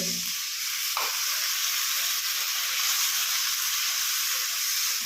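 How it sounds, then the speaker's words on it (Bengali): Spice masala and tomato frying together in a pan for a Bengali-style tel koi fish curry, a steady close sizzle with faint stirring, one brief scrape near the start, and no talking. "সমস্ত মশলা টমেটো দিয়ে ভালো করে এইভাবে নাড়াচাড়া করে"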